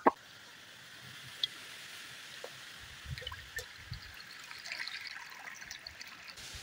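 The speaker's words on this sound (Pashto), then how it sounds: "چرګانو له مې اوبه راوړي چې اوس یې اوبه کړو" Water being poured out for chickens trickles and splashes faintly outdoors, with a soft, steady dribble and a few small plops, no voices.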